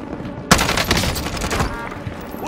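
Burst of gunfire in the video game Call of Duty: an abrupt loud onset followed by dense, sustained rapid shots and rumbling for about two seconds, close and heavy.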